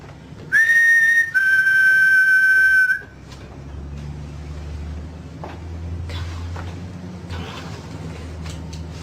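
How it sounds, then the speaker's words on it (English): Two long, loud, steady human whistle blasts sound up close in Gettysburg, then give way to low traffic rumble and occasional clatter. "Can you copy me if I whistle?"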